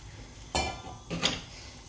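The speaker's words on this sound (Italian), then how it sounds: "Ora versiamo le nostre mandorle." Almonds tipped into a pot of boiling water in a kitchen, two short rattling pours half a second apart, close and fairly loud, with no talk.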